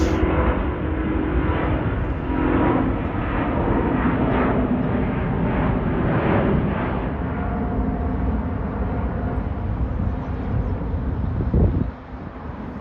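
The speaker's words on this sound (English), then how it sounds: "Here's Air France Airbus 350 to Charles de Gaulle" Air France Airbus A350 jet taking off toward Paris, heard as a long, steady, loud roaring rumble with wind buffeting, continuous and fairly near before it drops off abruptly at the end.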